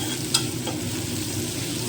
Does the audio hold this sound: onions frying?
yes